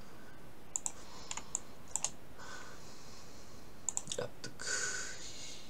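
Space key pressed on a computer keyboard, giving a series of crisp, close clicks that come in small irregular clusters with pauses between them over a faint room hush.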